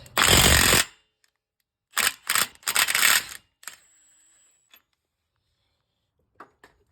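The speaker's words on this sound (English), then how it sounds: "just going to take an impact, and it should take it right off" An impact wrench hammers at a 36mm axle nut on a 2014 Cadillac ATS. One long rattling burst is followed by several shorter bursts, loud and close, and then faint metallic clinks in near silence.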